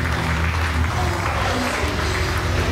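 A wrestling crowd applauds steadily as a tag team walks to the ring, dense continuous clapping and crowd noise over a low, droning hum.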